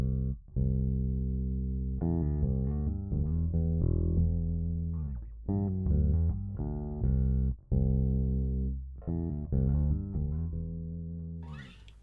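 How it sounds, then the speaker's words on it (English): A Squier Affinity Precision PJ bass played on its P pickup straight through a DI, deep round notes in short phrases with brief gaps, dry and close, alone without talk. "with DI to begin with, this is what my or your P bass pickup"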